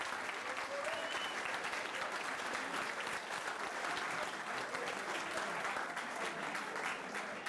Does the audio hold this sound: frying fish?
no